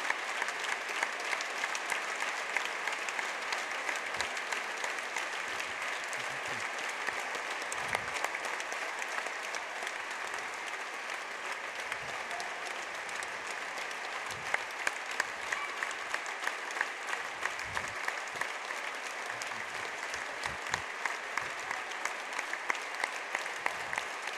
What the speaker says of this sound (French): on va d'abord applaudir Jean-Marie Maillaro